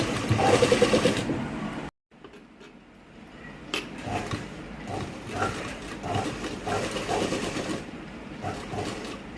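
A sewing machine stitching saree cloth for a blouse runs in a steady, close mechanical whir. It stops briefly, then starts again with a rhythmic clatter while someone talks over it.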